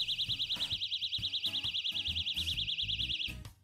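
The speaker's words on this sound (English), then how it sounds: "The personal alarm has basically a pull pin that when pulled out, the alarm will go off." A personal safety alarm shrieks continuously once its pull pin is pulled, a loud warbling high-pitched siren that keeps pulsing steadily for about three seconds before cutting off, with faint low clatter beneath.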